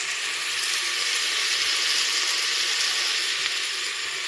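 Cumin seeds crackle and sizzle in hot oil for dal khichdi, a steady close hiss with faint popping that holds evenly throughout.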